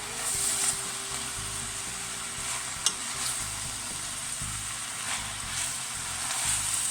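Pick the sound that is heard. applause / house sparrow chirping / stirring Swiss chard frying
stirring Swiss chard frying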